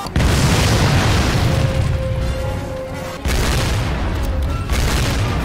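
Loud booming bomb explosions in the video game Medal of Honor: Pacific Assault, one big blast at the start and another around three seconds in, each followed by sustained rumbling noise.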